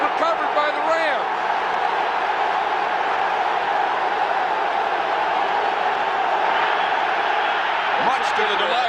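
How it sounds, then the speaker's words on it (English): A football stadium crowd at the Rams versus Bears 1985 NFC Championship roars loudly and steadily throughout, while a commentator talks briefly over the noise. "The crowd is extremely loud."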